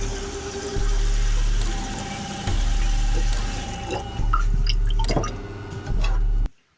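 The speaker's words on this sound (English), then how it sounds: "turn on the sink and fill it up into about like an inch or so of water" Water runs steadily from a kitchen sink faucet into a cooking pot, filling about an inch of water for quinoa, with a few bursts of flow and clinks of the pot before the tap is shut off abruptly at the end.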